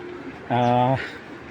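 A large Military breed pigeon gives one clear, close coo lasting about half a second, with a voice speaking softly beneath it.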